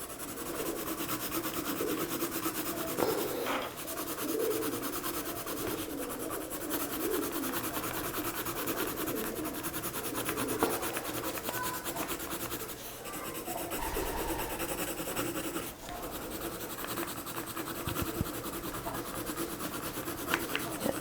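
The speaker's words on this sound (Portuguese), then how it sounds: "Aí eu já aperto mais um pouquinho esse lápis de cor contra o meu papel." A colored pencil is pressed and rubbed back and forth on paper, a continuous close scratchy rasp with soft irregular strokes, fairly quiet throughout, without speech.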